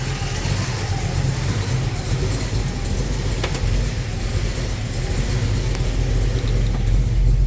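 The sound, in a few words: Ford Falcon 302 V8 engine idling, shifted into gear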